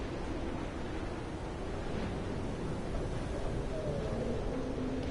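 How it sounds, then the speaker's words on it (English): Steady wind sweeping across a seaside cliff in the video game Dear Esther, a continuous broad rushing roar with a faint surf-like wash beneath it, even and unbroken throughout. "It's windy up here."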